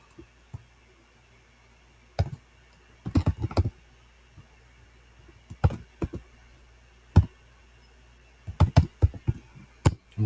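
Code for an Arduino four-relay shield gets typed on a computer keyboard, with clusters of crisp, close key clicks and short pauses between them.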